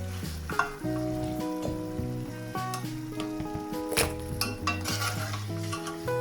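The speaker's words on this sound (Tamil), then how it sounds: "நீங்கள் கொஞ்சம் நேரம் பொரிய விடணும்" Spicy wheat flour snack pieces deep-frying in hot oil bubble with a busy sizzle, while a metal spoon clinks and scrapes against the pan, under a soft melodic tone.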